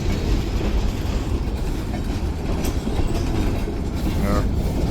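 Freight train rolling past close by, a loud continuous rumble with steady wheel clatter that fills the whole stretch, with faint talk underneath.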